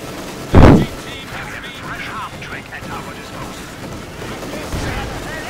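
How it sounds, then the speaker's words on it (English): A single sharp grenade blast bursts near the start amid the battle noise of Company of Heroes 2, followed by rumbling combat ambience and a fainter thud near the end, with a voice talking over it. "Grenades going off."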